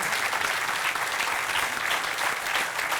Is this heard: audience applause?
yes